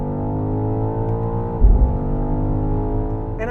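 A BMW XM engine held near redline gives a loud, steady harmonic drone, broken by a short thump and dip as it upshifts, then settles back into a constant tone; no voices.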